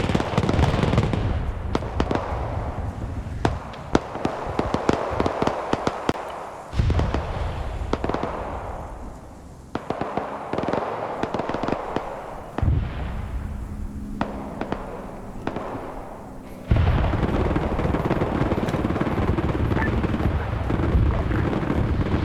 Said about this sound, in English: Heavy rocket artillery.